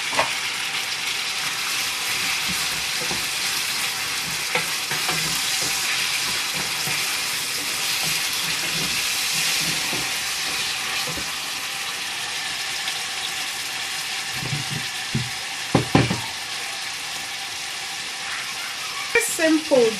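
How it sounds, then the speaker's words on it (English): Chopped tomatoes frying in a pan for Ghanaian egg stew, a continuous close hiss and sizzle of hot oil with occasional stirring clatters and small bumps near the end. "I'm going to put my 3 pieces of chopped tomatoes. It's actually 4. I'm going to pour them in now."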